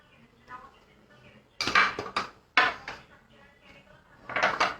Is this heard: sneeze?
no